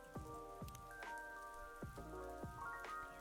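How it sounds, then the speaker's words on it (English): Soft rain sound effect layered faintly behind a cozy cafe video game's music, with gentle chimes and plucked notes over a quiet patter. "I added like some little rain sound effects in the background."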